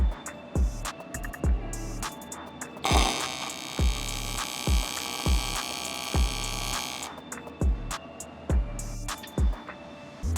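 A TIG welder lays a single tack on the aluminum body of a 1955 Tojeiro Bristol race car, a steady buzzing hiss lasting about four seconds amid a rhythmic, repeating electrical thumping hum.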